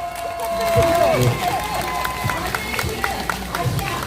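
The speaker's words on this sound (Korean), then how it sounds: "박수." A crowd at a Wednesday rally claps together after a round of chanted slogans, a moderate spread of hand claps rising briefly and then thinning into scattered ones, with voices murmuring underneath.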